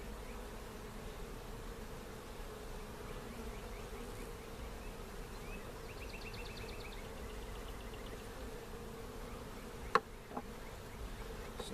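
Honey bees hum in a steady, dense buzz close by, with individual bees droning past and a couple of sharp knocks near the end.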